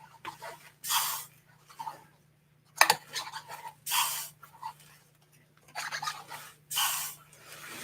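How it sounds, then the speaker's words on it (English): Short hissing bursts of WD-40 silicone spray repeat several times with pauses between, fairly close, over a steady low hum. "those are all sprayed with our WD-40 silicone spray"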